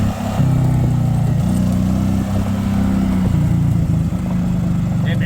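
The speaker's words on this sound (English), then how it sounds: "now, it'll bounce off the governor," Small gas engine on a Club Car DS golf cart, with the governor cranked up and a new exhaust, runs loud and steady, surging and dipping as it bounces off the governor.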